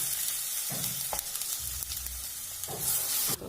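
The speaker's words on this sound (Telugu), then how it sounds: "ఇందులో గ్రైండ్ చేసిన గోంగూర వేసుకోవాలి" Ground gongura (sorrel) leaf paste hitting a hot pan and being stirred, with a steady close sizzle and frying hiss broken by scraping stirring strokes throughout.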